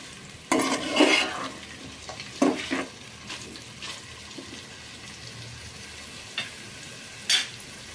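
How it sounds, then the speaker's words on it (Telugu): A vegetable pulao with tomatoes and curry leaves is stirred in a pan, with a few distinct scraping and stirring bursts over a faint steady sizzle, separated by quieter pauses. "కరివేపాకు కూడా ఇందులోనే వేసుకోవాలి. అంతా కలుపుకోవాలి."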